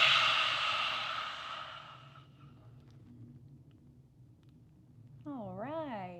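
A long, breathy exhale through the mouth with the tongue out closes a yoga breathing practice for sitting, loud at first and fading over about two seconds into quiet, with a soft voice near the end.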